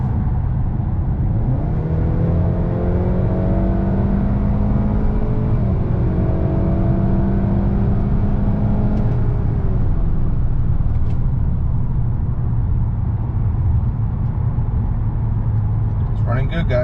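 A 2018-2021 Honda Accord 2.0t with a stage 3 tune, stock turbo and PRL 3-inch front pipe pulls hard, its engine note rising in pitch through a couple of gear pulls before settling into a steady cabin drone.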